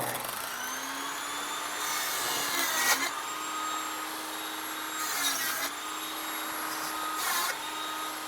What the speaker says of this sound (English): Now I'm going to make 2 cuts like this, but I'm not going to cut all the way through my board.